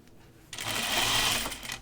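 A sewing machine stitches across a garment seam on a kimono or shirt dress, starting abruptly after a quiet moment and running as a steady, close, continuous whir for more than a second before easing off.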